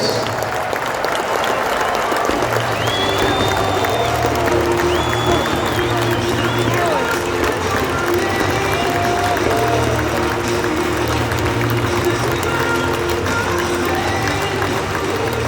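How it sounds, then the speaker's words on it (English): A large stadium crowd at a Pittsburgh Pirates ceremony applauds its Hall of Famers, producing a steady, loud wash of clapping and cheering with a few whistles cutting through and an announcer's voice carried over the public address. "One more round of applause for the Pittsburgh Pirates Hall of Famers and"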